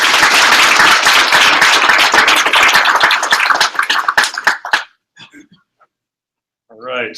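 Audience applause at a tech talk during a Toronto Apache Spark meetup, dense clapping for about five seconds that tapers off into scattered claps and quiet, with a brief voice near the end.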